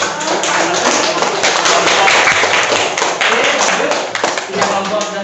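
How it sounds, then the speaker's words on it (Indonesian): Classroom group members clap their hands together to signal they have finished a task, a dense, continuous burst of overlapping claps from several people with voices chattering underneath. "semua anggota kelompoknya tepuk tangannya menyatakan sudah selesai"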